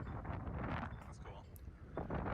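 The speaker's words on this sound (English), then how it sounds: "Super duper windy." Strong wind buffets a phone microphone outdoors at a disc golf course by a creek, a loud rumbling roar with gusty swells throughout, and a voice talks under it.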